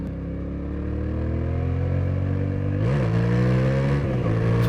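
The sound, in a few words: Yamaha Tenere 700 motorcycle CP2 parallel twin engine revving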